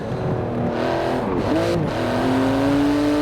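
Engine of a Porsche GT2 RS with titanium exhaust in the racing game Forza Horizon 4. It revs up loud and close with a rising whine, dips through a gear change and pulls again in a steady, strained drone.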